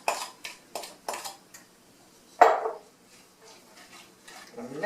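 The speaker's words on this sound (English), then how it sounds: "So I'm going to put the cherries in." Drained sour cherries for a pie tumble into a dish in a few quick clattering bursts, with a sharper clink of a utensil against the dish midway, close and fairly faint, then quiet.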